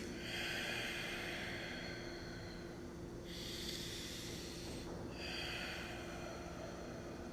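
Slow, deep breaths from a person in yoga practice, with long airy inhales and exhales in a quiet room, close and soft, no talking.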